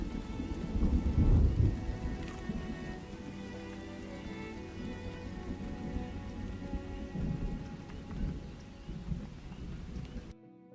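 Heavy rain pours continuously with deep rumbling thunder in a medieval city builder video game, a loud roll near the start, then a dense steady downpour until it cuts off.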